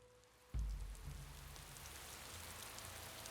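Steady rainfall in a video game, beginning abruptly after a short quiet stretch and continuing as an even, soft hiss of drops, fairly faint, with no talking.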